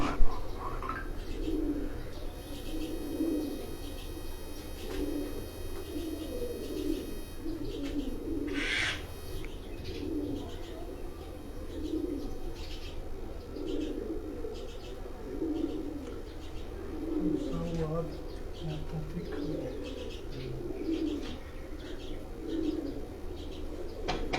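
Pigeons coo from a rooftop in a recurring low murmur that continues through the whole stretch, with occasional chirps and a brief flutter of wings against steady background noise.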